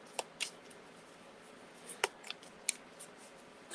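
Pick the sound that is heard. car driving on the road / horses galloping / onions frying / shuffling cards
shuffling cards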